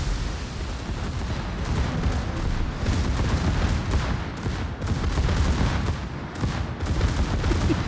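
Rapid video-game gunfire from a Double Fire ability, dense overlapping shots and blasts rattling continuously in heavy bursts, loud and close throughout.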